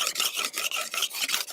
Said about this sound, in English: The harvest season is coming, and Li Guilin is carefully sharpening his sickle.